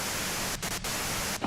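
Continuous hissing radio white noise static in the video game Disco Elysium, loud and steady with a few brief dropouts, and no voices.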